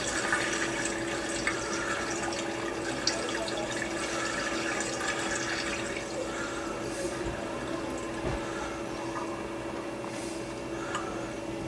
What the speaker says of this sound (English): Then let the rest of the water drain.